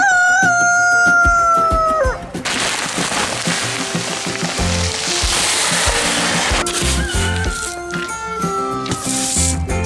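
Backyard chickens cluck and a rooster crows close by, the calls overlapping in a busy, loud stretch with scattered sharper cackles.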